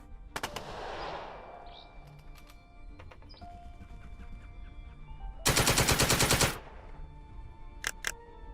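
Gunfire in the squad tactics video game Second Front: isolated sharp shots early, then a dense, loud rattling burst of rapid automatic fire, followed by a couple more quick shots.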